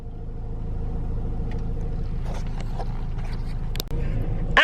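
A car on the move, a steady low road rumble and engine hum inside the cabin, with scattered clicks and light rustling over it and a brief dip and thump near the end.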